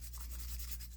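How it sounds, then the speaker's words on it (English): Steady rasping of a hand file shaping and beveling a ring made from a silver quarter, a continuous close scraping texture over a low background hum. "This is where the mastercraft comes through, is when you file and shape it."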